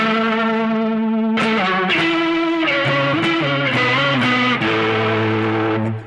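An electric guitar runs through a Danelectro effects pedal with its speed set to fast, sustained distorted chords wobbling in rapid modulation, loud and close with no talking.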